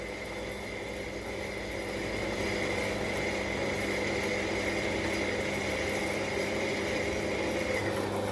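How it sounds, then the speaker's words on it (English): Power drill boring a pilot hole into the dimpled ball joint rivet of a Ford Focus XR5/ST225 front lower control arm, a steady continuous whine with a constant grinding drone, close and loud, with no voices. "So you just want to do our pilot drill."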